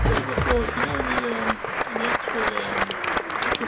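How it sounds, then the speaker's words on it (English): Fake audience applause from a game, a sustained burst of clapping with a voice talking over it. "there will be lots of people applauding with that fake audience"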